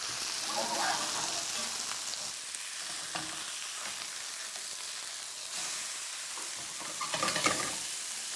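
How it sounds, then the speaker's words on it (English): Whitefish fries in browning butter in a pan with a steady, close, hissing sizzle that carries throughout, swelling in intensity at moments, with occasional soft stirring or shifting sounds. "as the fish cooks, the sound of the sizzle increases, it gets more intense"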